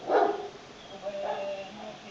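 Bulldogs and samoyeds barking in a kennel, a short burst of barks up front then softer yips and whines trailing off, moderately close and not loud.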